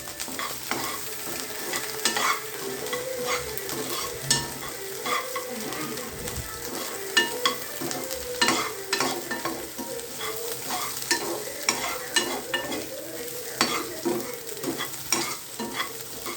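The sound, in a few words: stirring food with salt in a pan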